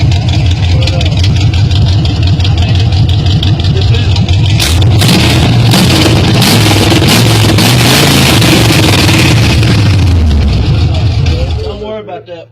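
A truck engine with straight headers runs loud and rough, its exhaust manifolds popping, and surges in a rev partway through before cutting off at the end, with a voice talking over the engine.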